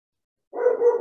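A dog barks once or twice in quick succession partway through, close and fairly loud after a moment of silence, in a home setting during an online talk.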